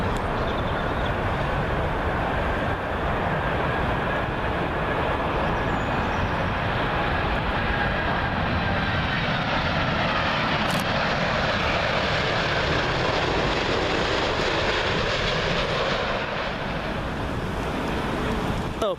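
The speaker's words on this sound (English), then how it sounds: "Next up, the El Al 787 Dreamliner Retro livery, arriving in from Tel Aviv." An El Al Boeing 787 Dreamliner in retro livery arriving at Heathrow from Tel Aviv, a continuous broad jet roar holding steady and loud throughout, no talking.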